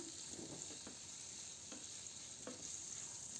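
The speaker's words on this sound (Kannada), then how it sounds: "ಫ್ರೈ ಮಾಡ್ಕೊಳ್ಳೋಣ" Onion frying in a pan for onion paratha gives a faint, steady sizzle, broken by a few quick scraping stirs, heard up close with no voices.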